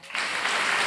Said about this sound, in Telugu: మీరు కాస్త ఓపిక చేసుకొని మీ ఒడిలో బైబిల్ పెట్టుకొని ఒకసారి చప్పట్లు కొడతారా?